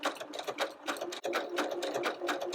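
A sewing machine runs a steady stitching pattern on a quilt block, its needle chattering in a fast, even rhythm, loud and close with a brief pause partway through.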